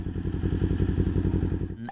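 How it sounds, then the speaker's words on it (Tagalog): Motorcycle engine idles close by with a steady, throbbing low pulse and a rapid regular chug, running alone for about two seconds before a brief faint tone at the end. "yung tunog ng bike natin"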